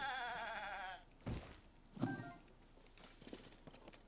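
Goat bleating in the Zelda: Tears of the Kingdom video game, a wavering bleat at the start followed by two short thuds and quieter game ambience.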